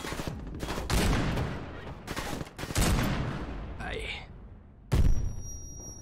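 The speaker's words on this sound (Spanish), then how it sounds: "¿Quién está lanzando cohetes?" Rocket launches and explosions in the video game Half-Life 2, a series of loud, sharp bursts with rumbling tails, one whooshing flight sound and a final heavy blast, with faint speech in between.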